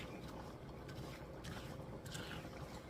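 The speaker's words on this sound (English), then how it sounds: "I left my exhaust fan on." A kitchen exhaust fan runs in the background, giving a faint, steady whooshing drone with no clear breaks.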